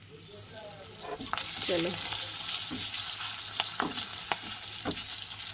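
Potato and helencha greens fry in a pan with a steady, close sizzle, broken by scraping stirs and soft clinks; a voice speaks one brief word.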